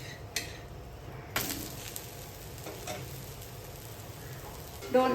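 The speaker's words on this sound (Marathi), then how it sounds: "एक साइड झाली आहे, आता आपण दुसरी साइड पलटवून घेऊयात।" Moong dosa sizzling on a hot pan right after being flipped, a faint, steady frying hiss with a few soft scraping or clinking sounds, no talking.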